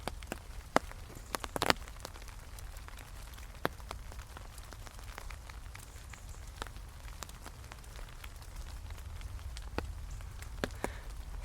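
Steady November rain falling outside a home, a dense soft patter with occasional sharper drips and taps standing out, continuous and even throughout with no voices.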